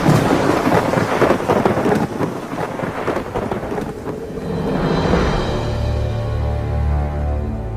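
Heavy thunder rolls and rumbles through a steady downpour, loud and close, with the storm's low boom swelling near the end beneath continuous rain.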